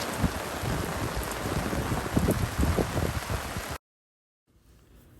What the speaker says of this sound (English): A little bit of rain's not gonna stop our parade.